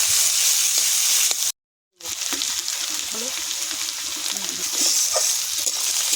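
Onion and potato frying together in a pan, giving a steady, fairly loud sizzle that runs almost unbroken, with a short silent gap early on and faint stirring touches.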